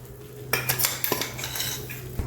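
A spoon clinks and scrapes against a pan while a ground paste of mustard seeds, fenugreek, sesame and dried red chillies is mixed into gongura pulihora rice, in several close, uneven bursts.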